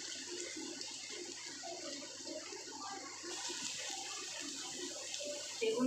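A large amount of onion sizzles in hot oil, making a steady, close, broad hiss that grows slightly louder toward the end.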